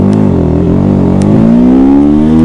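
A TVS Apache RTR 310 motorcycle accelerates in first gear, its engine note climbing smoothly in pitch. The engine is loud and close throughout, with no talk.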